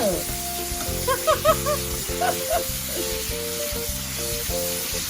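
Pickled mustard greens and bean sprouts sizzle steadily while being stir-fried in a wok, with scraping stirring strokes recurring throughout and a tonal electric hum underneath.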